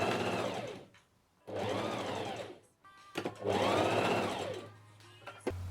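A sewing machine stitches fabric together in three motor-driven bursts, each rising and falling in pitch and separated by short pauses, with a few small clicks between runs.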